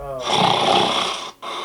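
A man imitates snoring with his own voice, giving one loud, rasping snore that lasts about a second before a brief pause.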